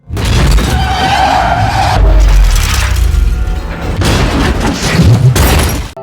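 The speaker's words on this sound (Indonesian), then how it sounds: "Naasnya terjadi kecelakaan." A sports car speeding and then crashing in the film Doctor Strange: loud, sustained tire screeching and skidding with engine roar, heavy booming impacts and crunching metal, all close and dense for about six seconds.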